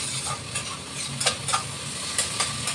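Fritters frying in a pan give a continuous sizzle with a few sharp clicks and scrapes scattered through it, close and fairly even in level, with no talking.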